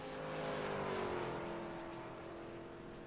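Race trucks from a PC truck series racing game idle along at low pace behind the pace car at Charlotte, a steady loud engine drone with a sustained low hum throughout and no talk.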